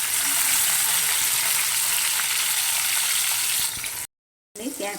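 Chopped small tomato goes into a hot pan, setting off a loud, steady sizzle that hisses on for several seconds and then briefly cuts out before resuming.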